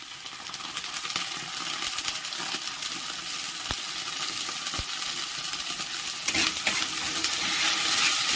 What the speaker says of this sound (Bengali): এবার আমি ভালোভাবে ভেজে নেব